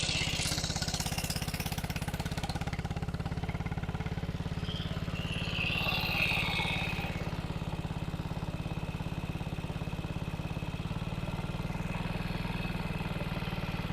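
1937 Sunbeam Lion side-valve motorcycle engine running steadily, a low even thumping drone at close range, fairly faint, with no talk over it.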